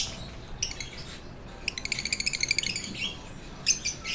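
African lovebirds in an aviary chirp in bright, rapid bursts, one longer trilling run of quick tweets among scattered calls, moderately near with quiet background.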